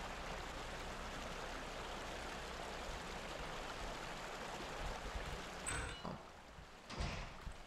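Water flowing steadily through a sewer in Clandestinity of Elsie, a constant broad rushing wash that continues throughout, joined near the end by a couple of soft thuds and a faint ping.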